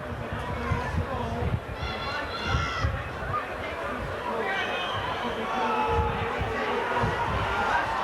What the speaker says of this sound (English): can hear what the crowd in the House of Pain think about that.